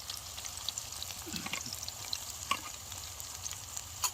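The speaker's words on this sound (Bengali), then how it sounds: "পেঁয়াজ দিয়ে দিলাম, তেল গরম হয়ে গেছে।" Onion and green chilli frying in hot oil at a rainy campsite where duck meat is being cooked: a steady, quiet sizzle with a few sharp crackles and light stirring clicks.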